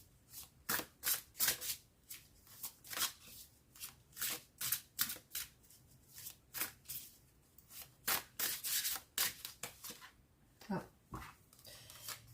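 Tarot cards shuffled and handled in a steady run of crisp riffling and rubbing bursts, close and fairly quiet, with a dog faintly whimpering in the background and no talk.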